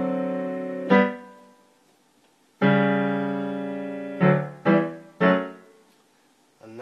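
Piano plays a phrase from a song: a few struck notes and chords, one held long, then three quick chords, ringing clearly and then decaying, with no talk.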